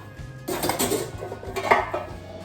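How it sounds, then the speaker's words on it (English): Two homemade white bread loaves are turned out of their baking pans onto a cooling pan. Close metallic clanks and knocks come in two short clusters, with no talking. "We're just gonna take a cooling pan and flip them out."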